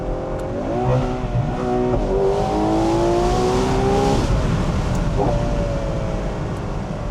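A Ferrari 12Cilindri Spider's V12 engine revs and accelerates hard, its pitch climbing through several gears, loud and close with the roof open, then settling into a steady roar.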